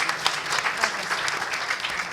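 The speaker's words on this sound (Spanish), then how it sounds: "Les pido un fuerte aplauso para Carmen Aristegui y Brandon Zelaya" A conference audience in Buenos Aires breaks into loud, dense applause, a continuous crackle of many hands clapping close by, with no voices over it.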